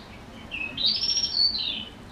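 A single small bird gives a bright, warbling chirp lasting about a second, clear and moderately close against a quiet background, with no speech.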